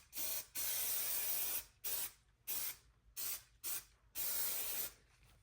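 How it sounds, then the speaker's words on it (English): Spray adhesive hisses onto dirt bike seat foam in six separate bursts of varying length, close and fairly loud, with short quiet gaps between them. "give it a little spray"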